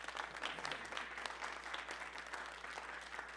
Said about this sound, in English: Can we get a round of applause for my young people?